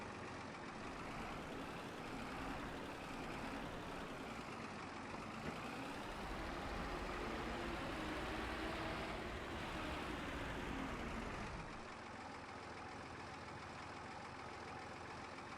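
A Zetor tractor engine running steadily and loudly for a long stretch with a snow plough, a broad rumbling drone that shifts slightly in tone partway through.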